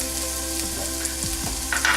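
Garlic and ginger frying in a spoonful of oil over medium heat give a steady, moderate sizzle, with a few scrapes of stirring and a brighter crackle near the end.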